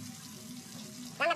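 Potatoes with turmeric sizzling in oil on a clay stove, a soft steady fry hiss that swells into a louder crackling burst near the end.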